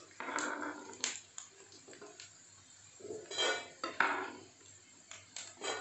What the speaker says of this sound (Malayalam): ഇത് നല്ലവണ്ണം മൊരിഞ്ഞ് വന്നിട്ട് ഇനി നമുക്ക് ഇതൊരു പ്ലേറ്റിലേക്ക് കോരിയെടുക്കാം